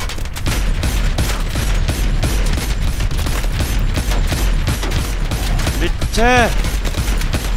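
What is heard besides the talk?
missile strikes and gunfire in video game Call of Duty Advanced Warfare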